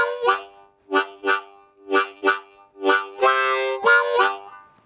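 A harmonica shuffle lick played with cupped hands, in short muffled rhythmic bursts that build into a longer sustained chord phrase near the end, close and solo with no talking.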